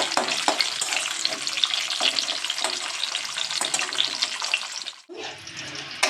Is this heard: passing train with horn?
no